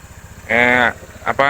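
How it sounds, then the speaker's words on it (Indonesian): A Honda PCX 160 scooter engine idles while warming up, giving a low steady putter underneath someone speaking close to the microphone. "Ini posisinya mesin dihidupkan dulu ya sebelum beraktivitas ya."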